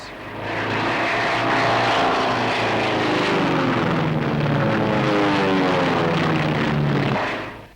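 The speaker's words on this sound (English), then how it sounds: "Jap planes from Munda come out to battle American fighters." Roaring propeller aircraft engines drone continuously, their pitch slowly shifting as Japanese and American fighter planes pass nearby in an aerial battle; no gunfire stands out.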